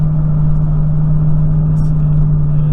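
A Chevrolet truck engine with low power, held at wide open throttle while the vehicle barely moves, gives a steady, loud, unbroken drone with a strong low hum throughout. No one speaks.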